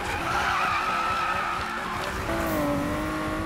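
Tires squeal continuously as a car drifts in a racing video game, with a wavering, sustained screech over engine noise, loud and close for the whole stretch.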